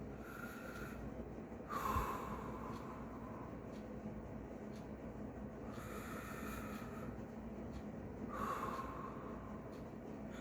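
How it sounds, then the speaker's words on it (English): A person takes slow, deep breaths close up, with three or four drawn-out, airy inhales and exhales spaced a few seconds apart over a faint constant hum. "Just deep breathing."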